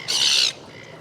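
An upset seagull lets out one loud, harsh squawk close by at a seashore during a very high spring tide, then quiet follows.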